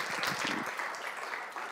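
An audience applauds a presenter at a talk on human and AI translation, a dense steady clapping that fills the room at a moderate level without let-up.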